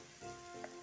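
Chapati crumbs and fried peanuts sautéing in a pan over low gas give off a soft, steady sizzle, close and gentle, with no voices.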